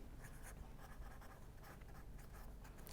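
A pen or chalk scratches steadily across a board or paper as an equation is written out during a lecture, quiet and close, with short strokes in an uneven rhythm and no voices.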